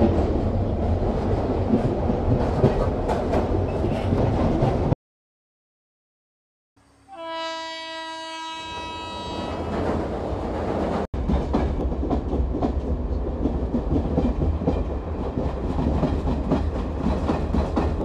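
A Mumbai local train rumbles loudly along the rails with a dense, continuous clatter of wheels, cut by a brief silence and then a tonal warning beep before the heavy running noise resumes.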